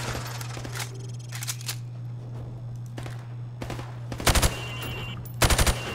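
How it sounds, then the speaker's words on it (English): Gunfire rings out in Call of Duty: Modern Warfare Remastered as a rifle shoots targets through plywood, with a few single sharp shots followed by two loud rapid bursts over a steady low hum. "I want you to shoot the targets through the wood."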